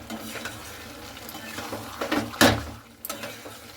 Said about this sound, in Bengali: এই দেখুন টক দইটা দিয়েও কিন্তু খুব সুন্দর করে নাড়াচাড়া করে নিতে হবে।